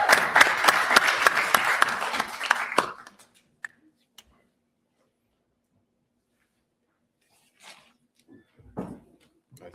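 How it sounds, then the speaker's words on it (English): Audience applause at a university debate summit greets Professor Ademola, a dense burst of clapping for about three seconds that stops abruptly, followed by near silence with a few faint knocks and shuffles. "could we have a round of applause again and bring on Professor Ademola"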